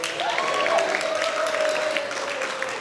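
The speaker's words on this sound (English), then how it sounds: "Give a round of applause for John." Applause for John at a wedding reception, a steady patter of clapping from the gathered guests with a whistle rising through it, moderately loud and continuous.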